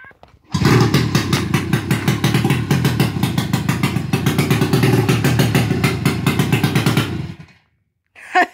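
An 800cc two-stroke engine on a stretched tractor revs up and runs loud and close for about seven seconds, its rapid rattling beat then cutting off to near quiet before a faint stir at the end.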